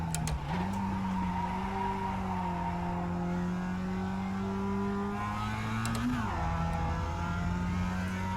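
A Mazda MX-5 Cup race car in the iRacing simulator holds a steady, loud engine drone at near-constant revs, with a brief dip and rise in pitch partway through.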